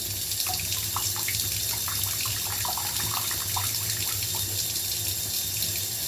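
Shower water runs steadily during a wash in a home bathroom, a broad continuous hiss and splatter with a low hum underneath, close and alone with no talking.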